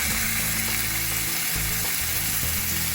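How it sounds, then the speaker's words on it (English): Beef mince patties frying in a pan over a low flame, giving a steady broadband sizzle with faint crackles throughout, close and fairly loud, with no talking. "Now we fry the patties"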